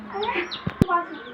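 A pet chicken clucks a few short, close, throaty notes, with two sharp knocks or pecks in the middle and a voice in the background.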